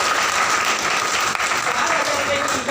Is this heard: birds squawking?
no